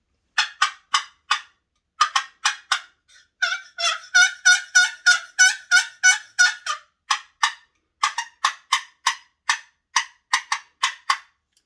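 A wooden box call imitates a cutting turkey hen in loud, sharp yelps, first in quick separate clucks, then a fast run of rapid cuts, then spaced clucks again, alone and close.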